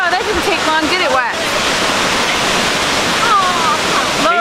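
A loud waterfall at the lower falls on a hiking trail roars as a constant broad wash of rushing water, with voices talking and calling over it at the start and near the end.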